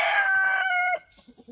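Hens clucking alongside a rooster's loud, close crow that cuts off sharply, followed by softer scattered clucks from the backyard flock.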